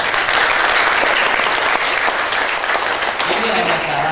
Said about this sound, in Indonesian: Ya tepuk tangannya keras.